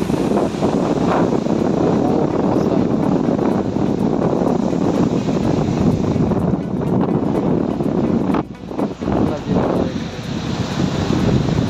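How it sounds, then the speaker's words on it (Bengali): Sea waves and strong wind on Digha beach: a continuous loud roar of surf and wind buffeting the microphone, briefly easing near the end, with a voice speaking faintly underneath. "একদম খুব বড় করে ঢেউ জ্বলিয়ে আসছে অনেক দূর থেকেই"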